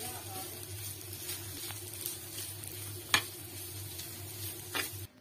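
Potato filling for bonda fries with a soft, steady sizzle while a spoon stirs it. One sharp scrape stands out midway, and a faint low hum continues throughout.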